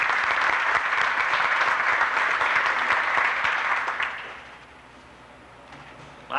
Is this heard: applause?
yes